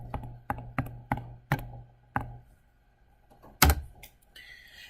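Sharp button presses on a calculator, a quick run of separate taps with gaps between them, close and clear in a quiet room, ending in a louder clack.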